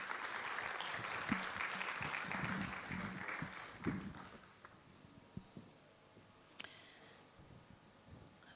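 An audience at a gender summit in Ghana applauds as the Deputy Minister for Energy is welcomed. The clapping is dense at first, then fades to a few scattered claps and thumps.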